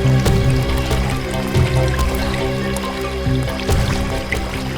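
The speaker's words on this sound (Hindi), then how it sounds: "सर इस तरफ से पानी के बहने की आवाज आ रही है।" Water flows steadily, with continuous trickling and dripping that stays loud throughout, layered over sustained background tones.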